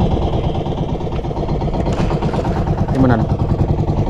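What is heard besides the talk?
idling vehicle engine that had been smoking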